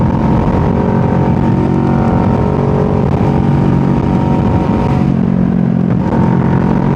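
Motorcycle, a 650 fitted with an SE Project exhaust, engine running loud and close with a steady rumble and a brief dip around the fifth second; distinct pops and bangs are not clearly separable.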